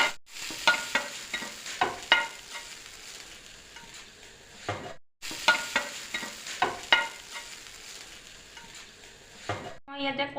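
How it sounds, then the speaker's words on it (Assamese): Marinated tandoori chicken being mixed in a bowl, a run of wet, squelching stirs with regular clinks and scrapes, a brief pause in the middle, then the same busy mixing resumes, close and moderately loud. "এতিয়া মেৰিনেট কৰা পাত্ৰটোতে আমি আকৌ মিক্স কৰিম।"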